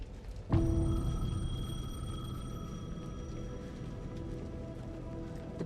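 A payphone bell in the video game Alan Wake 2 rings out sharply with a bright metallic tone, then rings on steadily, fairly quiet against a low background hum.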